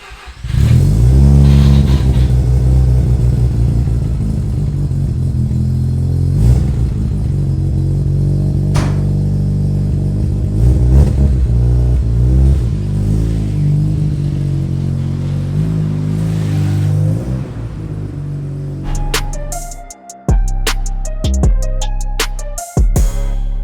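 A modified FC turbocharged rotary car engine idles loudly and steadily up close, with a lumpy, buzzing drone and sporadic higher clicks near the end.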